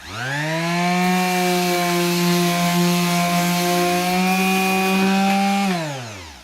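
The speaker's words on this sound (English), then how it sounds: "I didn't realize that the blower was so strong" A strong electric blower runs steadily at one loud, even pitch for several seconds, then spins down quickly as it is switched off.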